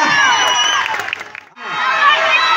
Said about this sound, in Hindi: अभिजीत के तरफ से एक बार जोरदार तालियां बजाएंगे पान टोला की तरफ से।